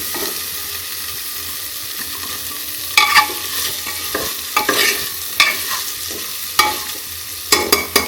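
Elephant foot yam cooks in a pressure cooker with a soft continuous sizzle, punctuated by several sharp metallic scrapes and knocks of a spoon stirring, heard up close without speech.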